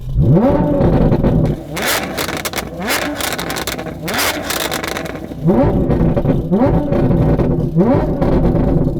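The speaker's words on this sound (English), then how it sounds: "Down on cylinders, down on capacity. It's a Porsche GT3." A Porsche GT3 engine in the Driving Empire racing game revs up repeatedly through rising sweeps, loud and close, with brief drops between pulls and a run of quicker rising revs near the end, with no voices.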